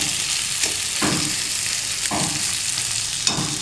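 Taro stolons frying in a pan with prawns, a steady close sizzle broken by a few scraping stirs of a spatula, with no voices.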